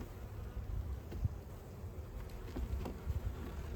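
A steady, low buzz of many honeybees around an open hive hums throughout, with a few brief louder passes as individual bees fly close to the microphone.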